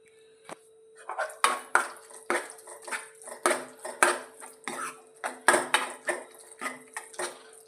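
A spoon mixes curd rice in a bowl, producing a steady rhythm of about a dozen close, ringing metallic clinks and scrapes against the dish, with no voices.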